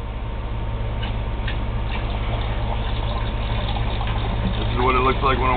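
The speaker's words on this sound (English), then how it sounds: "This is how I water my rattlesnakes." Water pours steadily into a container for pet rattlesnakes, a continuous trickling fill over a low hum, with a voice speaking briefly near the end.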